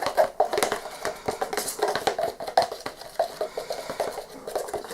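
Pigment being stirred into a small cup of resin gives a quick, irregular run of light scraping and tapping clicks, close and fairly loud, with no voices.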